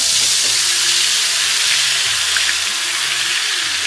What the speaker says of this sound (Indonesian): Ini sepertinya minyaknya sudah panas.